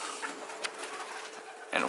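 Pigeons coo on a farm, a flock of reds, grizzles and whites, heard as soft, murky calls within a steady background hiss, with a louder burst of calling near the end.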